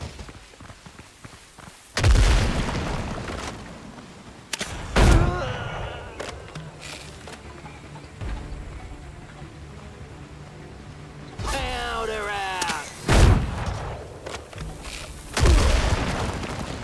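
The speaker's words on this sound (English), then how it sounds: "Oh, there's a grenade though." Booming blasts in the pirate video game Windrose, including a grenade explosion, land as several heavy, loud thuds spread across the stretch, with rumbling noise between them and a voice speaking at times.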